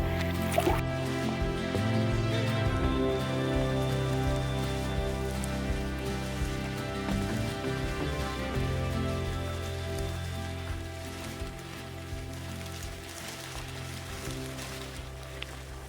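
Steady rain pattering on a surface with dripping at a campsite in Bon Echo Provincial Park, a dense continuous wash of sound throughout.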